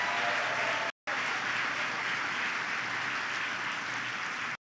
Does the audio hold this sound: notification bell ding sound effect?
no